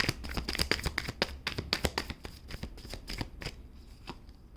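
Tarot cards are shuffled by hand in quick riffling bursts, a rapid dense run of crisp papery flicks that thins out toward the end, close and with no talk.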